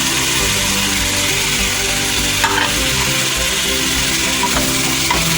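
Garlic ginger paste sizzles and fries in a pan for beef nihari, a steady close crackle with occasional stirring scrapes throughout and no talk.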